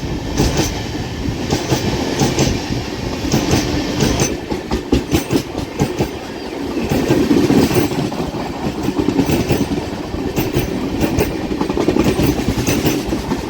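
A passenger train from Secunderabad to Srikakulam Road rumbles along with steady clickety-clack of wheels over rail joints, loud and continuous from inside the carriage, with no talking.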